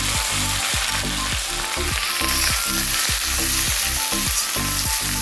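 Okra sizzles steadily in hot oil in a pan, tempered with five-spice and chilli, a loud, continuous, close frying hiss with stirring scrapes and no one talking.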